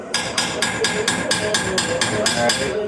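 A steady series of sharp metallic hammer strikes testing a MIG-welded joint, about four per second, ringing close and loud, with a brief spoken word near the start.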